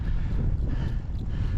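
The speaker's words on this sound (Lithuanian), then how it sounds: "Labai šalta, labai pučia stiprus vėjas" Strong cold wind on a mountain climb during a cycling ride, buffeting the microphone in a loud, continuous low roar with no pauses.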